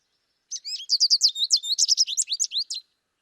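A small bird sings a rapid, twittering song of bright chirps and trills lasting a couple of seconds, clear against silence.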